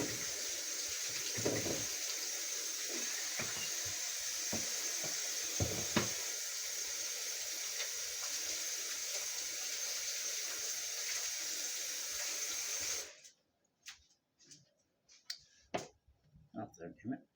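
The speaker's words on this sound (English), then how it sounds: "But let me wash my hands." Running tap water in a kitchen sink while hands are washed, a steady close hiss and splash for most of the clip before the tap shuts off, leaving scattered faint drips and clinks.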